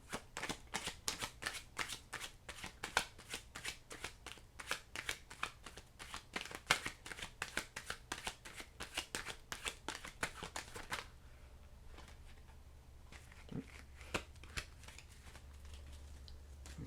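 Tarot cards are shuffled in a quick run of soft, rapid riffling flicks for about eleven seconds, quiet and close, followed by near silence with a few faint handling sounds.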